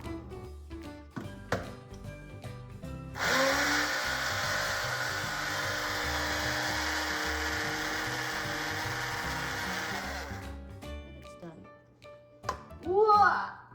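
A blender grinding granulated sugar into powdered sugar, a loud steady whirring roar that runs for about seven seconds, with clicks and handling noises before and after, and voices briefly at the end.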